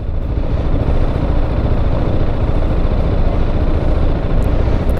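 A brand-new 2022 BMW G310GS motorcycle runs at a steady, loud drone while riding, with dense low engine rumble and wind roar, close and continuous with no talking.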